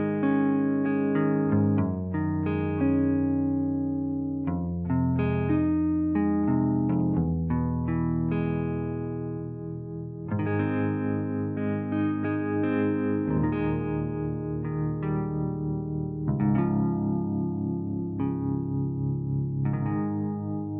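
Soft plucked guitar notes from a virtual Kontakt guitar instrument in its soft longs picking mode, a gentle melodic line with overlapping sustained tones, steady and moderately loud, with no voice.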